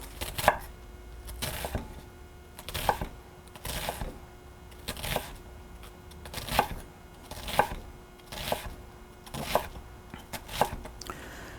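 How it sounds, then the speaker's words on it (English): A knife chopping onion on a cutting board: rhythmic, close, moderately loud thuds at roughly one-second intervals, with softer slicing between them. "And there's my chopped onion"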